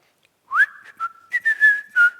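A person imitates a shepherd's whistle, a sharp rising note followed by several clear sustained pitched whistles in quick bursts, loud and close, with no talk.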